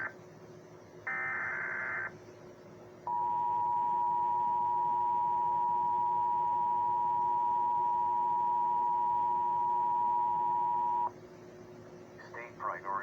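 Emergency Alert System tones in a Thanksgiving infection scenario broadcast: a brief two-tone burst, then a long steady loud beep lasting about eight seconds, over a faint background hum.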